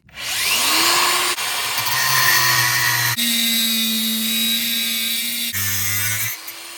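Cordless cutting tool with a thin cutting disc slicing aluminium held in a vise: a loud, close, high-pitched whine that spins up, then grinds steadily with shifting pitch as the disc bites, ending in a brief drop, no talk.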